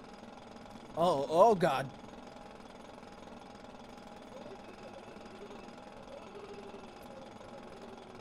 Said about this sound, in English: This isn't a pickaxe, this is a jackhammer.